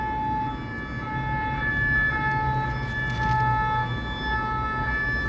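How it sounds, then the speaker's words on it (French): A steady fire engine siren wails through loud traffic rumble, its tone holding level rather than rising and falling as it passes close by. "Là, il y a les pompiers qui passent"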